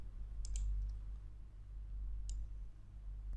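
A computer mouse clicking while drawing with the pen tool in Corel Draw, two faint, crisp single clicks separated by quiet room noise.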